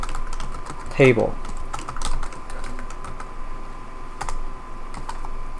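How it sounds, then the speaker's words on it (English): Short bursts of keystrokes on a computer keyboard, close and light clicking scattered over a few seconds, with someone briefly speaking partway through. "Then I'm going to type in wx n event"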